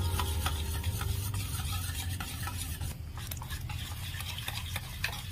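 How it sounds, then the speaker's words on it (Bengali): Egg batter with cornflour being mixed for chicken kabiraji, a steady scraping stir with light clinks of utensil against the bowl. It runs continuously and close, with no talk. "আমি কর্নফ্লাওয়ার আর ডিম একসঙ্গে ভালো করে গুলে নিয়েছি"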